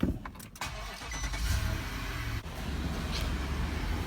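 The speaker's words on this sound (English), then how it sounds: "So let's start the car." Infiniti QX80 SUV engine cranking and starting after a brake pad job, followed by a steady low rumble of the running engine close by.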